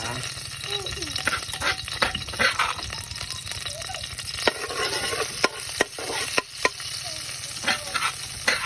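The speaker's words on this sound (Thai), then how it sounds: "จะเริ่มผัดกดจ้าพี่น้องจ้า" Termite mushrooms and pork belly stir-fry in a pan with a steady loud sizzle, while a spatula scrapes and taps against the pan in repeated sharp clicks throughout.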